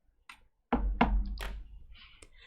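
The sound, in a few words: knocking on a wooden door, sound effect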